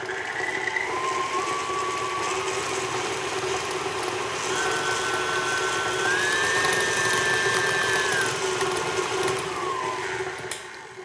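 An electric mixer blends butter and vanilla extract for buttercream, its motor whining steadily and shifting pitch as the speed rises, with a constant close mechanical hum and no talking.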